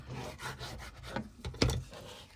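A hand rubs down a folded paper envelope tag with repeated soft, scratchy strokes, close and fairly quiet, ending with a firmer press.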